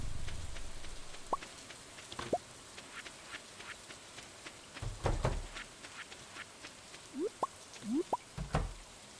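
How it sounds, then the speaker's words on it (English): Rain patters softly in the Stardew Valley farming game, a faint steady drizzle with scattered drips, several short rising chirps and a few low thumps, with no talking. "since it's raining today"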